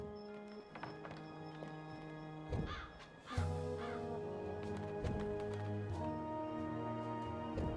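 A talking bird in the Dreamfall Chapters video game gives a few scattered caws over a steady background of sustained, layered game tones.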